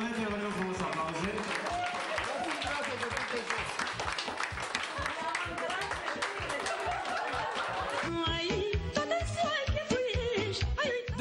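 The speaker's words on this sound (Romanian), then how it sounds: "Doamna Ileana Ciuculete, vă rog frumos aplauze." Studio audience on a Romanian TV show applauds and laughs for a folk music singer, steady clapping with chuckles mixed in, changing character near the end.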